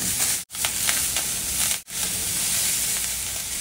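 Green chillies and coriander stalks roasting in a pan with salt, an even hissing sizzle broken by two short silent gaps, steady and close, no speech.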